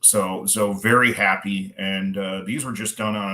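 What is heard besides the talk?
No distinct noise like a dog, phone or traffic.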